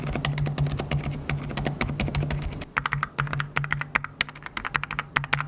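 Steady typing on a high-end keyboard with silent tactile switches and internal sound-dampening layers, a close run of muted, soft key presses at an even, quick pace with no talk.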